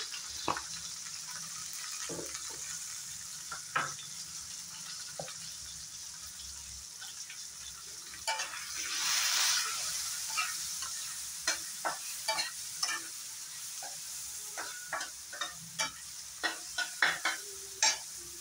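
Onions frying in a pan with salt and turmeric, a soft steady sizzle broken by a string of sharp stirring scrapes and clacks, heavier toward the end.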